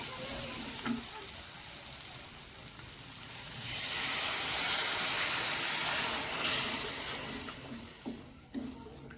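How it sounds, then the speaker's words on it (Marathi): Water poured onto roasted masala in a hot pan bursts into a loud hissing sizzle that swells midway with rising steam, then eases back to bubbling frying with a few stirring knocks near the end. "आपण यामध्ये आता पाणी घालून घेऊया"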